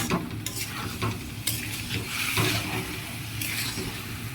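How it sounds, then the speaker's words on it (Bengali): Rice frying in a pan with ginger while being stirred, giving a steady close sizzle broken by scraping spoon strokes at irregular intervals, with no talk. "এবার চালটাকে ভালো করে আদার সাথে ভাজা ভাজা করবো।"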